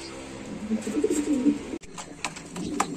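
King running pigeons cooing in a loft, a close pair of soft throaty coos rising and falling, with light rustling and scattered clicks and chirps behind them.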